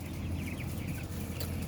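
Broiler chickens about 18 days old cluck softly in a poultry house, faint chirps and clucks over a constant loud ventilation hum.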